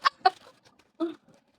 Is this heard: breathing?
no